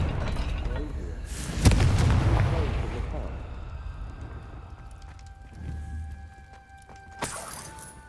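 A magical Confringo fire spell detonates in Hogwarts Legacy, a deep booming blast that swells and rolls off over a couple of seconds, followed by rumbling debris, a second smaller impact and game ambience.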